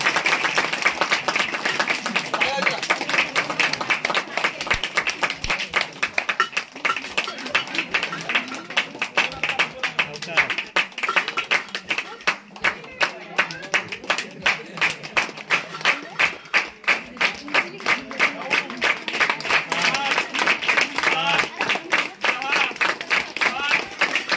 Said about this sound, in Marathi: 1 2 3 टाळ्या वाजवा